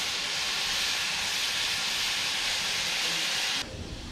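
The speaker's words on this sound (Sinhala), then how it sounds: "ජාඩි බදිනකොට වටේට ලුණු කරේ මතු වෙනවා." Salted jaadi fish sizzles in hot oil as salt rises to the surface, a steady dense hiss that holds evenly before dropping slightly in level near the end.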